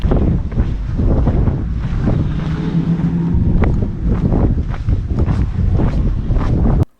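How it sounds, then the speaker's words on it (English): Strong outdoor wind buffets the microphone continuously, loud rumbling gusts filling the whole stretch on a winter lawn before cutting off abruptly at the end. "the wind was really bad"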